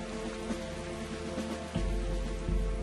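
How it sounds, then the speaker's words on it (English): Heavy rain pours steadily as a dense, continuous hiss through the night, with a deeper low rumble joining partway through and holding to the end. "The rain poured, and Longstreet's dense columns"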